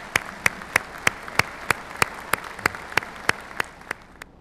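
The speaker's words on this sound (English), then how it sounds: "Give yourselves a round of applause." A few slow, evenly spaced claps from a small audience at a diocesan gathering, about a dozen sharp hits that thin out toward the end, with no voices over them.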